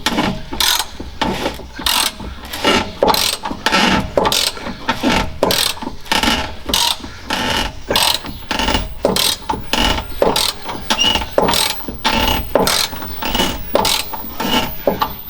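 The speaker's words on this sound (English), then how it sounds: "sounds like it's grinding away in there" Grinding inside a Kubota-type TX 375T tractor while working to free a stuck bolt makes a steady rhythmic ratcheting and scraping, repeating about twice a second, loud and close for the whole stretch with no voices.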